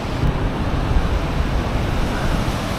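Ocean waves hitting and splashing on the shore in Australia, a loud, continuous wash of surf mixed with heavy wind rumble.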